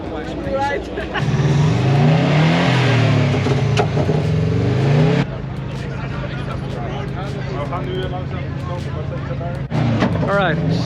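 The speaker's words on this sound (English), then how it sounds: "we've got some guy revving that's really loud" A car engine revs hard at a Japanese car show, a loud roaring rise held for several seconds, then drops to a rumbling idle with more blips, under outdoor crowd noise and nearby voices.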